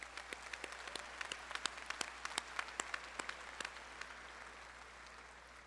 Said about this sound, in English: Give that a hand of applause.